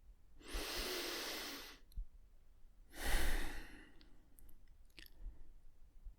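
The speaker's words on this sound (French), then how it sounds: "Tu vas prendre une grande respiration." Two slow, deep breaths during a guided eyes-closed exercise: a long airy inhale, a pause, then a strong exhale, close and quiet with no talking.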